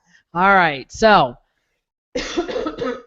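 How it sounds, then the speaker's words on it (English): A person coughs in a rough, noisy burst on a Catholic talk show, close to the microphone, right after a man's brief spoken words. "I'm still in the coughing phase"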